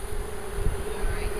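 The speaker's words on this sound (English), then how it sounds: "Brush the bees into the hive, not out of the hive." Honey bees from a package being brushed into a hive, a steady close insect drone with a constant hum throughout and no talking.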